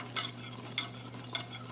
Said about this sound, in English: So you just wanna stir it this whole time.